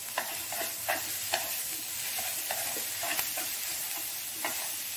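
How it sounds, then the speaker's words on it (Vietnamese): Filling for Vietnamese duck blood pudding (tiết canh vịt) is stir-fried in a pan, with a steady close sizzle throughout and repeated scraping strokes of a utensil against the pan at an uneven rhythm, and no talking. "Rồi sau đó mình sẽ cho cái phần nhân này vào nha để mình xào nha"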